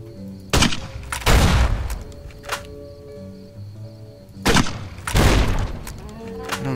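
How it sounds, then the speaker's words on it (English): Gunfire in Fallout New Vegas: two loud bursts of shots, each a sharp crack followed by a rolling boom and echo, separated by a few seconds of quieter game ambience. "Let's see if I can shoot it from afar"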